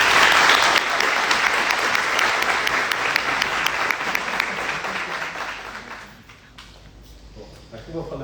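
Audience welcomes a speaker at a talk with a long burst of dense clapping, loud at first and gradually thinning out after about six seconds, with some voices at the end.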